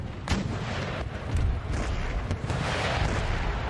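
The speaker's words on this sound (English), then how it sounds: "That our lone unit of guns is going to fire at the camel gunners" Artillery guns in the Empire Total War video game fire on camel gunners, with several booming shots in an uneven rhythm over a rough, constant battlefield roar and no voices.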